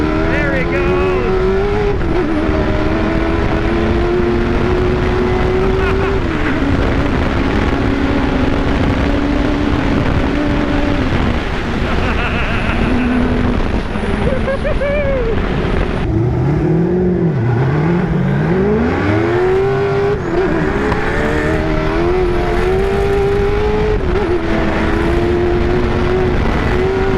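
A 1000+ horsepower Tatum sandrail launching at Gordon's sand drags, its engine screaming and climbing in pitch through long wide-open pulls, with sharp revving swoops near the end and crowd noise and voices around it.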